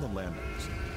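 A sheep in the video game Catherine bleats once in a wavering cry near the start, loud against a dense game soundtrack.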